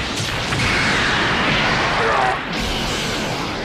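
Special Beam Cannon attack from the Dragon Ball Legends video game, a loud sustained energy-beam roar with a crackling burst that briefly dips near the end before resuming.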